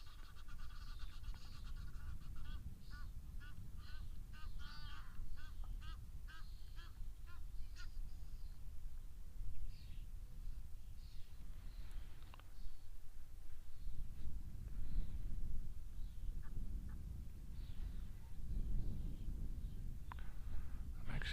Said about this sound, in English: They actually sound like common starlings.